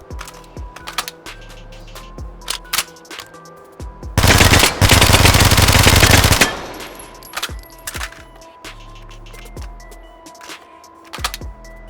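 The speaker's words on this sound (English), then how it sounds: "interesting little SMG here. Fires pretty fast." A Black Ops III submachine gun in the VR shooter H3VR lets out one loud, rapid burst of about two seconds in the middle. Sharp mechanical clicks and handling knocks come before and after it.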